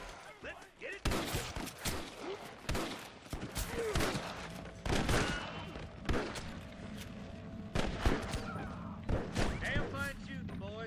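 Repeated gunshots and volleys of fire from a shootout in the video game Red Dead Redemption 2, loud and dense throughout, with sharp cracks over a steady game soundscape and speech mixed in.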